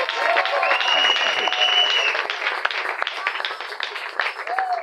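Church congregation bursts into sustained applause and clapping, a dense crowd roar with cheering voices and a few whistle-like calls rising over it.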